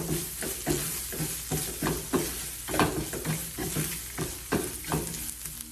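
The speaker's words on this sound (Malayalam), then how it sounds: "ഇതിനെല്ലാം കൂടെ നന്നായിട്ട് നമ്മൾ ഇളക്കി ഒരു ബ്രൗൺ കളർ ആകുന്ന വരെ ഇതിനെ ഒന്ന് വറുത്തെടുക്കണം" A utensil scrapes and stirs grated coconut and mustard seeds around a hot pan in a steady rhythm, with a soft sizzle of roasting underneath.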